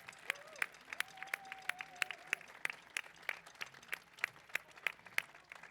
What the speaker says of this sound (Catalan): Un aplaudiment per la Lucía, sisplau.